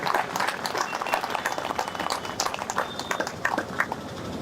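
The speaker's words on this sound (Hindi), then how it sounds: "जोरदार तालियां इनके लिए बजाइए।" Dense, steady crowd applause at a political rally and padyatra march for jobs and social justice, sustained loud clapping with scattered cheers throughout.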